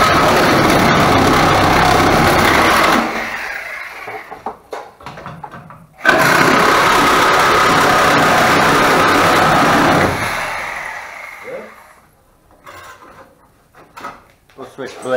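Power saws grind through rusty metal on a 1964 VW Beetle in two long, loud, harsh bursts, with quieter pauses and handling noises between cuts.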